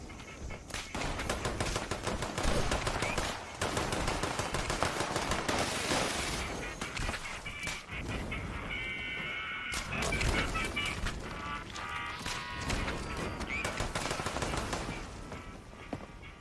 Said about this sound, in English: Is anybody else hearing the constant machine gun noises?